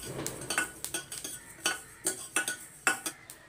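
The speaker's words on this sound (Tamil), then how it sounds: "இப்போ இங்கே லைட்டாக பொரிய ஆரம்பிக்குது" Sesame seeds dry roasting in a pan give off a run of sharp crackles and pops, each one brief and fairly close, with faint scraping between them.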